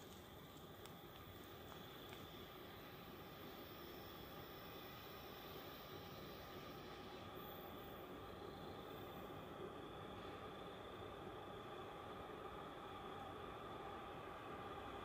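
A CSX freight train led by a GE locomotive passes through Woodbine on the old main line, a steady, continuous rumble and roar of wheels and cars that holds level throughout, with no voices.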